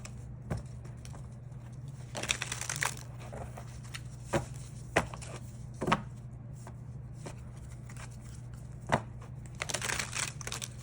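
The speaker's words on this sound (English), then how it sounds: "Okay, let's shuffle." Tarot cards being shuffled by hand, a series of soft crinkly riffles and taps at close range, irregularly spaced over a low steady hum.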